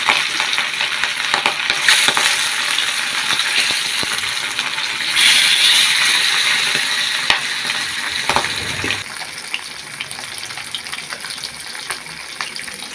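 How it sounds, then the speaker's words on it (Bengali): Fish sizzling steadily in hot oil in a pan for a curry with cucumber, a dense continuous crackle with occasional stirring clatter, loud and close, no voices. "মাছগুলো ভাজা হয়ে গেছে।"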